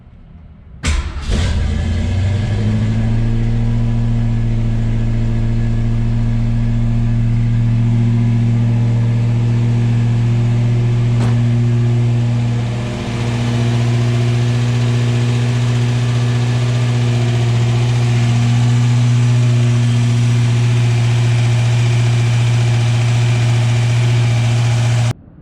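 A Ford 289 V8, freshly swapped in to replace a six-cylinder, cranks and fires, then settles into a loud, steady, close idle that runs on with a slight dip partway through.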